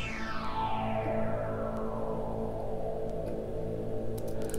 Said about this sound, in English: We got sweeps, which sound like this.